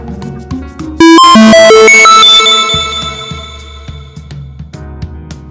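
A phone ringtone plays loudly and close for an unanswered call, a bright melodic run of tones that starts suddenly and then fades into repeated softer electronic notes.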